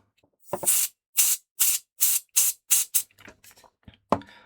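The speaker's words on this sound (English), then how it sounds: "So I've just sprayed that with that Super 10" Super 10 lubricant spray aimed at a faulty Game Boy Advance SP, heard as about seven short, sharp aerosol bursts in a row, close and loud, each roughly a third of a second long, followed by faint small handling noises.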